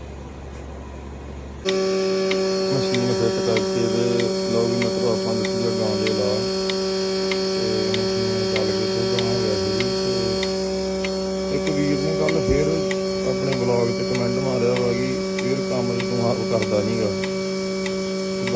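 A cow milking machine runs with a loud, steady mechanical hum and a regular pulsing rhythm after a brief quiet start, with faint voices in the background.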